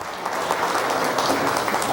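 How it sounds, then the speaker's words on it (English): A church congregation at a celebration applauds an award-winning youth, a dense, steady wash of many hands clapping close and loud throughout. "Give him a hand clap."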